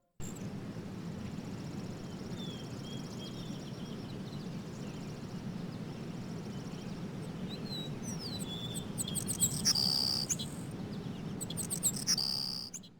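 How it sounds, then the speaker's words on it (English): Birds chirp and tweet throughout an otherwise quiet training sequence in an Army Men video game, with steady low ambient hum beneath and brighter bursts of calls toward the end; no music or voices. "there is hardly any sound, no music, no narration, nothing but the birds chirping"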